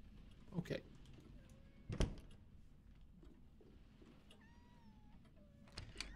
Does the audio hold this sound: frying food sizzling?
no